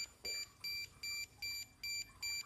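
A Bosch alarm system keypad beeps seven times in an even, rapid rhythm, each short tone clear and close against a quiet background.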